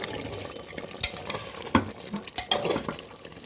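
Chicken kala bhuna is stirred in a pan, its thick, juicy masala bubbling softly while a spoon scrapes and clinks against the metal in uneven strokes, close and clear with no talking.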